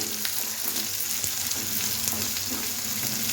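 Capsicum fries lightly in oil in a pan, making a steady, close sizzle with a few soft stirring taps.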